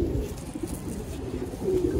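Soft, steady cooing from a Tirra pigeon, a continuous low murmuring close by with no talking over it.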